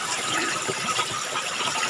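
Water from a natural underground spring gushes and splashes steadily close by, a continuous bright rushing with no voices over it.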